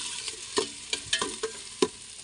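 Garlic, onion and chili sautéing in a pan, a soft sizzle broken by several sharp clacks and scrapes of a utensil stirring at an uneven pace, no voices.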